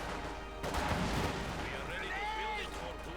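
Rifle shots and flamethrower fire rumble through a Company of Heroes 2 battle at steady loudness, with a commentator talking over them.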